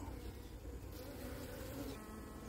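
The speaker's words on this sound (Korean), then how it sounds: "시체를 빼려고 하는 꿀벌입니다." Honeybees buzz around a hive in Florida as workers haul out a dead bee, a steady, soft droning hum with no voices.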